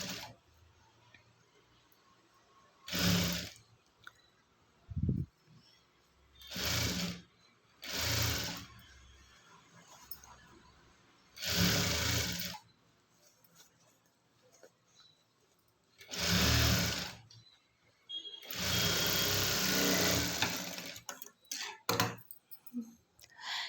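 A sewing machine stitches a seam on a readymade dress in several separate bursts of running, each a few seconds long, with quiet pauses between them and one longer final run.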